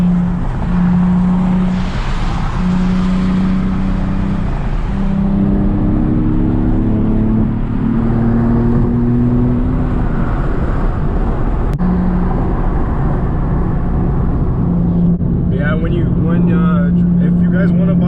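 Nissan Z sports car accelerating to merge onto freeway traffic, a steady loud engine drone with rising gear tones throughout, a brief shift near the middle, voices talking over it.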